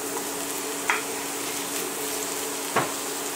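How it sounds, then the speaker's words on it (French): Drained beans go into a hot pan and sizzle with a steady, close frying hiss, broken by two brief clacks of a utensil against the pan, with no talking. "J'ajoute donc les 200 grammes de haricots égouttés."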